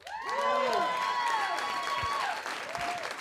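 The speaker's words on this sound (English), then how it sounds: "Keep it clapping" A live comedy audience in New Orleans applauds and cheers as comedian Howard Hall takes the stage, a dense, loud wash of clapping with whoops and shouts rising above it.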